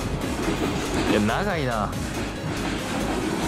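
Rumbling train noise on rails of the Sanyo Main Line near Miyajimaguchi, Japan, with a brief rising and falling squeal in the middle and a person speaking briefly over it.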